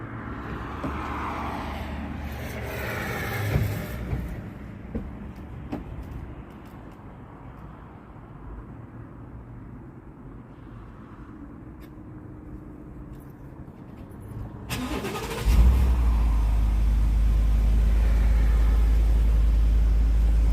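A truck rides along with a low engine rumble and some thumps and rattles. Near the end, a much louder, steady deep engine drone takes over.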